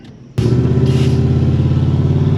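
A 600-horsepower turbocharged Lincoln running nitrous goes to full throttle and its engine bursts into a loud, sustained roar. The roar comes up suddenly after a quieter idle, with a steady, pulsing rasp.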